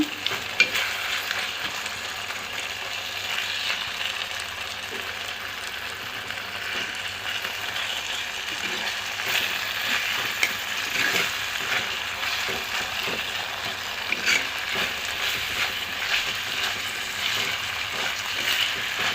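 Spices and ingredients sauté in a pan for tomato soup, a continuous soft sizzle with frequent clicks and scrapes of stirring throughout.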